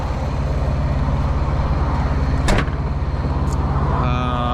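A truck idles rough and low with a shaky, uneven rumble from a misfiring engine and bad injector, one sharp knock or door thud cutting in midway, then a brief whine near the end.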